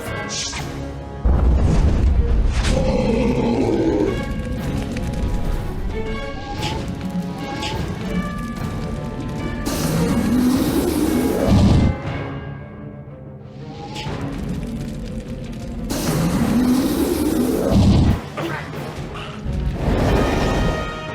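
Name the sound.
Fire Dragon spell attack in Wizard101 video game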